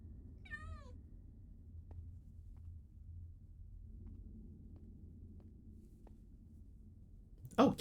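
Kitty Creeper cat mob in a Minecraft StoneBlock modpack gives a single clear rising-and-falling meow near the start, over a steady low ambient hum with faint clicks, then a brief louder sweep at the end.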